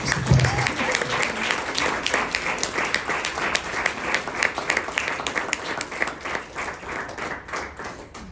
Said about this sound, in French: Je vous prie d'applaudir.